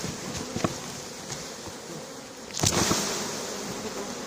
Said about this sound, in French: Je descends l'essaim le plus possible dans le carton.